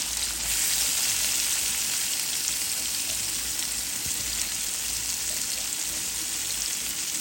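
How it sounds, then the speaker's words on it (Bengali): Fried prawns cook in oil with garlic and onion for a prawn bhuna, a constant close hiss and crackle with faint stirring scrapes and no talking. "দিয়ে দিলাম রসুন, দিয়ে দিলাম পেঁয়াজ। চিংড়ি মাছ ভুনা করবো।"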